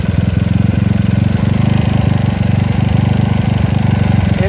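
A GY6 scooter engine with a 30mm OKO PWK carburetor runs at high revs during carburetor tuning, a loud, steady, fast-pulsing buzz held close throughout with no break.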